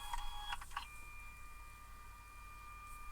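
A Prusa MINI+ 3D printer runs its self-test, checking fans, axes, heated bed and nozzle temperature: faint clicks and short tonal whines at first, then a quiet steady motor and fan hum.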